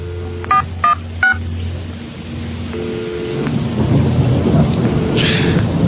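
Three sharp telephone keypad dialing beeps ring out close and clear over steady rain, then the downpour swells with a low rolling thunder rumble.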